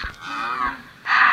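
Two moos from a cow in the video game Minecraft Skyblock, the first drawn out and the second starting abruptly and loud, close by with no talk.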